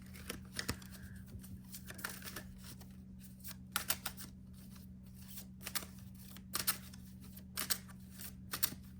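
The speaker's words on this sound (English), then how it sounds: "This one is a little thicker and harder to shuffle." Repeated crisp riffling bursts of a thick tarot card deck being shuffled, close up, with short pauses between shuffles over a steady low hum.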